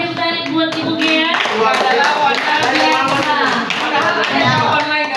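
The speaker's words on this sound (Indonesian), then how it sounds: "Silakan beri tepuk tangan buat Ibu G ya." Clapping breaks out for a teacher in an Indonesian school session, steady applause from a small group throughout, close and lively, with voices chattering under it.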